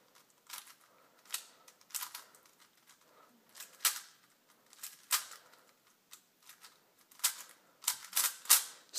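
A Dayan MF8 4x4 puzzle cube is turned and corner cut in quick bursts, producing sharp plastic clicks and clacks in irregular clusters, close and fairly quiet.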